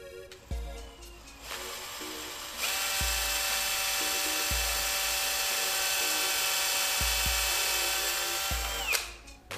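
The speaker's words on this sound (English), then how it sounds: "we're gonna drill down through the center, to the top of this broomstick." Power drill boring down through the center of the top of a wooden broomstick, a steady loud high whine of several seconds with short bursts and thumps before and after, no talking.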